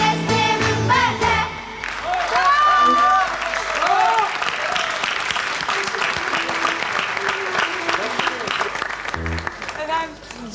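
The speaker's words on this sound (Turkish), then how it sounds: "Alkışlarla ve büyük alkışlarla, tebriklerle uğurluyoruz efendim" Big, loud applause and cheering from a studio audience follow a song by the Diyarbakır Metropolitan Municipality children's choir on a Turkish TV show, sustained throughout with a host's voice talking over it and traces of music.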